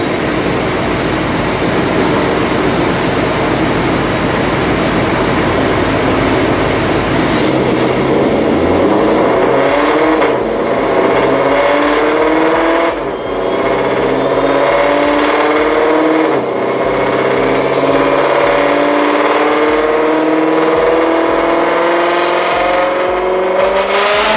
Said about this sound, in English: let's go ahead and watch another dyno pull real quick